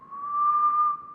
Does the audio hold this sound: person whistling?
yes